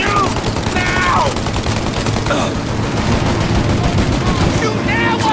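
Gunfire in the Mafia video game, a dense barrage of rapid shots and bursts crackling continuously throughout, loud and close, with a shouted voice briefly mixed in.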